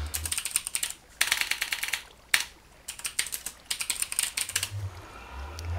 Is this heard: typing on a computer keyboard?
yes